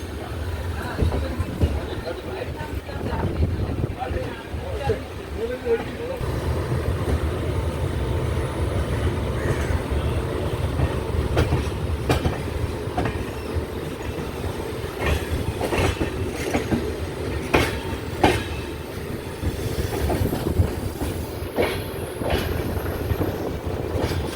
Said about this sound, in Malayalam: ഇനിയിപ്പോൾ അവിടെ നിന്ന് എടുത്തു, സെൻട്രലിൽ നിന്ന് വണ്ടി എടുത്തു.